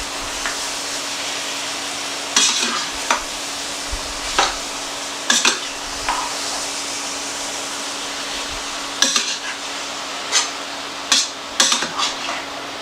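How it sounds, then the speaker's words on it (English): A spoon scrapes and clinks through browned beef, onions and their juices in a pot for Amish beef and noodles, with repeated sharp knocks over a steady, hissing background, close and without talk. "You just give this a good stir."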